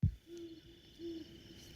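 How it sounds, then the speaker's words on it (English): An elf owl gives two short, low barking notes recorded at night during a field survey, faint and distant over a steady background hiss, with no talking. "an elf owl barking"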